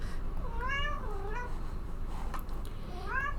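A pet cat meows several times in drawn-out, rising and falling calls, fairly close over a steady low background hum, with a pause before a final meow.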